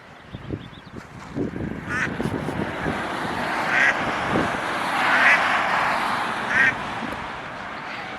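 A free-range duck near its nest gives several raspy quacks, moderately close, spaced out over a rustling outdoor background with a voice speaking briefly.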